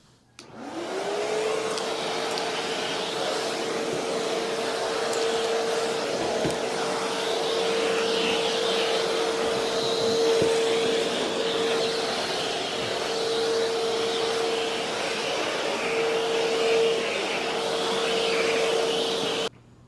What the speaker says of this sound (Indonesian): sekarang kita vakum ruangan dalam yang tadi